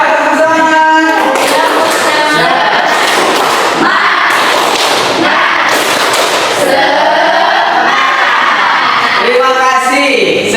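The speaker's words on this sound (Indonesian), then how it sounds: "Ayo tepuk semangat." A group in a classroom performs a rhythmic spirit clap (tepuk semangat), with loud chanted voices and sharp hand claps in patterns that continue steadily for about ten seconds.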